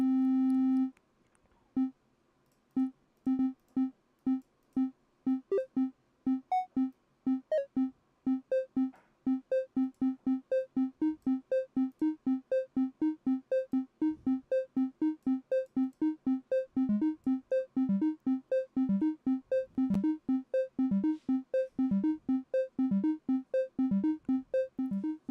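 A step sequencer pattern built in Reaktor repeats a short pitched tone in a steady pulse. It starts sparse, then grows into a dense, fast run of regular synthetic blips that continues alone for the whole stretch.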